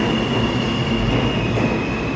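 R160 cars on a downtown E train rumble loudly and continuously past the platform at Penn Station, 8th Avenue subway, with a thin sustained tonal whine above the roar and brief hints of wheel squeal.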